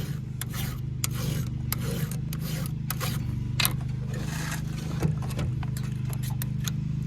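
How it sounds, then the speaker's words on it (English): A hand file is drawn across the rakers of a chainsaw chain in quick repeated swipes, close rasping scrapes in short bursts over a steady background hum, with no talking. "a swipe or a couple swipes on every raker"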